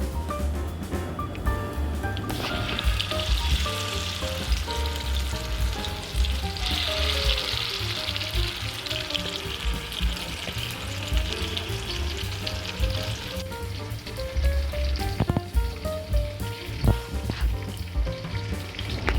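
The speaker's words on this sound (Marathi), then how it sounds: "एक एक करून आता ते लेग पीस आपण फ्राय करूया" Chicken leg pieces shallow-fry in oil with curry leaves, giving a loud, dense, steady sizzle and crackle throughout. Occasional faint clinks come from the pan.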